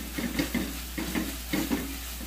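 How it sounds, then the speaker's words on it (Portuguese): Garlic frying in a pan while being stirred: a constant sizzle underneath, with a few rhythmic scraping strokes of the spoon rising above it, close and fairly loud. "se vocês quiserem um alho mais douradinho, fica a critério de vocês"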